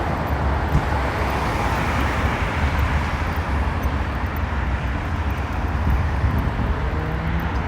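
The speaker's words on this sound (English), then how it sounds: "All these cars, all this traffic, all these angry people." Dense city street traffic in Burbank, Los Angeles at sunset, a steady loud roar of passing cars and vehicles with constant road noise and no pauses.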